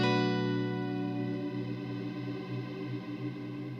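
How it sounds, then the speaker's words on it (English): A sustained electric guitar chord rings through a Line 6 Helix effect with a wobbling pitch bend and chorus shimmer, fairly quiet and steady, slowly decaying with no talking. "So now I have a little bit of a pitch bend going on in there."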